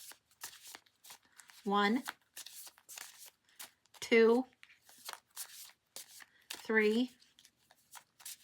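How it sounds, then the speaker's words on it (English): An oracle deck of cards is shuffled in three distinct bursts of quick riffling flutter, each about a second long, while a voice counts aloud between them. "So I'm just going to start shuffling to clear the deck"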